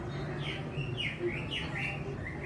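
A house sparrow near a field nest gives a series of short, high chirps, several in quick succession, fairly faint over steady outdoor background noise.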